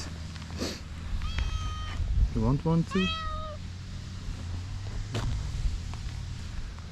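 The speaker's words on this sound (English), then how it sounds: "Now I'm surrounded by cats." Several friendly cats on Terceira Island meowing nearby, a few short rising meows in a cluster midway, close and clear over outdoor background noise, with a person talking briefly.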